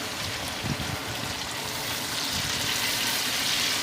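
Chicken sizzles and fries steadily in an Afghani karahi over high heat with ginger-garlic paste and tomato paste, a continuous close crackling hiss with faint stirring and no talk.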